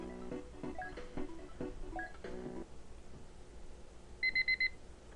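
Electronic tones from the Game Boy Advance game Dragon Ball Advanced Adventure: a quick melodic jingle of chiming notes, a brief lull, then a run of four short, rapid high beeps.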